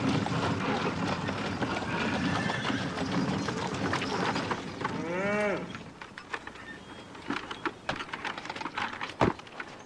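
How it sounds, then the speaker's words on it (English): Cattle on a ranch, a noisy mix of livestock sounds with lowing calls and shuffling hooves at moderate distance, busier at first then quieter with scattered knocks and steps. "Travis, I want to stay and watch cattle"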